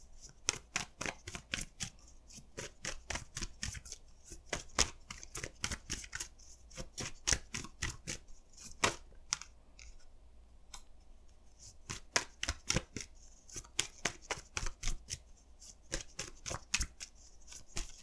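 Tarot cards shuffled by hand in a steady run of crisp riffling snaps and flutters, close and fairly loud, with brief pauses between bursts and no talking.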